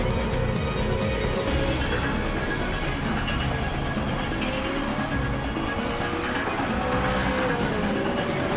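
A race car slides out of control, tires squealing and skidding over a continuous engine roar at steady, moderate loudness.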